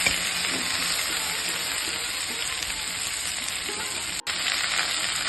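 Ladies finger (okra) fries over lowered heat in a pan with salt, a steady loud sizzle filling the whole stretch, with faint stirring scrapes and one brief dropout near the end; nobody speaks.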